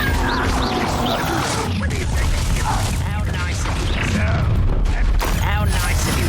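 Fiery blast-spell explosions from a Hogwarts Legacy duel, a dense, loud burst of crashing booms and crackling debris filling the scene, with game voices speaking over the combat.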